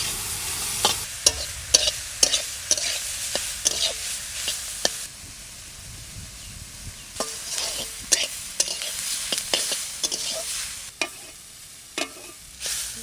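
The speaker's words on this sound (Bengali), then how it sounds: "অল্প তেলে ভাজা করলাম" Potatoes fry in a small amount of oil in a pan, with scraping stirs striking at an uneven rhythm over a soft, steady sizzle, close and fairly quiet, with no voices.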